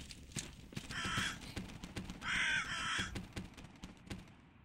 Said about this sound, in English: That's the bloody crows again.